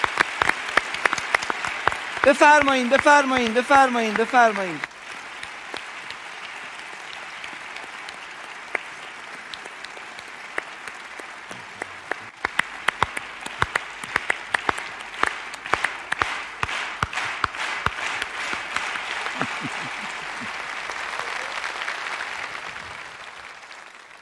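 Sustained audience applause fills a hall at a gathering honoring Salahuddin Savari, an autistic boy who memorized the entire Quran; dense clapping persists throughout, with a brief spoken phrase near the start.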